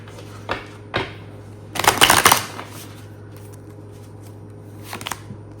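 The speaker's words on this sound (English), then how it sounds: "Do another good hard shuffle." Tarot cards are shuffled hard, giving a dense riffling burst in the middle. A few sharp card taps and flicks come before and after it, close to the microphone.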